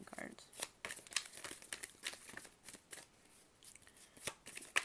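Tarot cards are shuffled in quick irregular riffles and snaps, close and fairly quiet, with a voice speaking over them.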